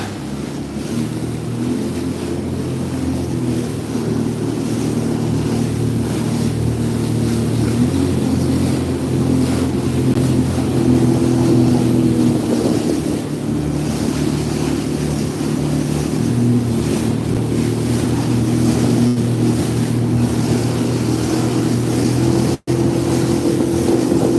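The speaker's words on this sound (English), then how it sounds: "Trying to ride this wave right here." Sea-Doo personal watercraft running over ocean waves near the 10,000 Islands, its engine a loud, steady droning hum with constant wind buffeting the microphone and rushing water beneath, ending in a brief sharp dropout.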